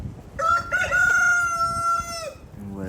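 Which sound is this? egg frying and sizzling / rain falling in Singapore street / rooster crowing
rooster crowing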